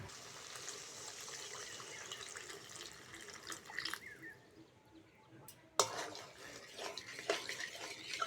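Water pours and splashes into spiced masala in a pan, starting as a soft steady stream, then cutting out before a louder burst of gushing and bubbling in a quiet kitchen, with no talking.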